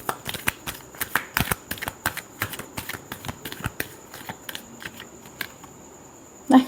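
Tarot cards are shuffled by hand in quick uneven bursts of crisp riffling slaps and flicks, close and dry, thinning out near the end.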